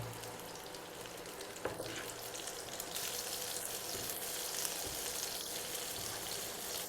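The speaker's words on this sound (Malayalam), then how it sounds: "സോയാബീൻ ഫ്രൈ ചെയ്യുമ്പോൾ ലോ ഫ്ലെയിമിലിട്ട് ഫ്രൈ ഫ്രൈ ചെയ്യുക" Soya chunks frying in oil over a low flame, a steady dense sizzle and crackle that holds throughout with a few brief louder pops, close and with no voices.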